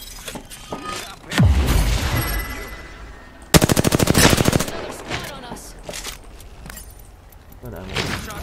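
Shotgun gunfire in a video game rings out in loud blasts with a rapid burst of repeated shots in the middle, mixed with game effects and clanking sounds.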